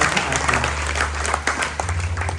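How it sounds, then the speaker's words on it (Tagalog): Congregation applauding at a church service, a dense burst of many hands clapping together, steady and fairly loud, with a low hum underneath throughout. "Muli isang malakas na palakpak para sa ating Panginoon."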